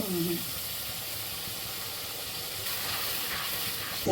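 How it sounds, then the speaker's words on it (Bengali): A steady, soft sizzling hiss of onions frying in a pan for a homemade chicken curry, continuous and even throughout with no talk. "এটা পেঁয়াজটা ভাজবে তাই তো?"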